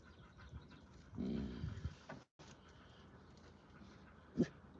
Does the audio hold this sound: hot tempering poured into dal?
no